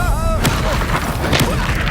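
A Confringo blasting spell in Hogwarts Legacy bursts with a loud, booming impact followed by crackling debris, surrounded by whooshing spell effects and a busy duel soundscape.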